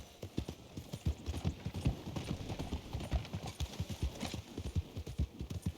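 Horse hooves clip-clop steadily in the Red Dead video game, a brisk, even trotting rhythm of close, distinct hoof strikes on the road, heard alone without talk.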